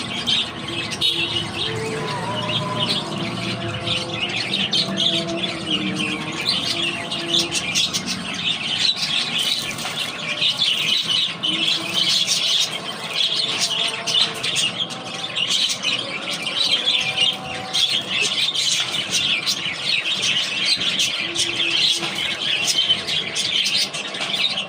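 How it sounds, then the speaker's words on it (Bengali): Pet birds chirp and squawk steadily for about twenty-five seconds, a dense layer of high tweets and calls that never lets up, with faint engine hum and a little household background beneath. "যে আমার পাখিগুলো এখানে দেখেন কী করতেছে।"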